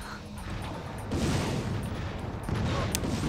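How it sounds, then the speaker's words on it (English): Rocket explosions in Ratchet Deadlocked rumble in two heavy, sustained bursts over a dense wash of game combat noise, moderately loud with short crackling pops between. "I'm getting rockets from everywhere."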